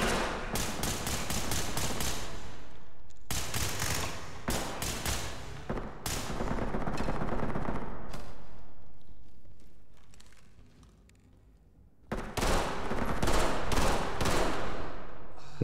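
Several loud bursts of rapid gunfire ring out in a tactical police shooter, clustered volleys separated by short gaps, then a quieter lull before another sustained burst near the end.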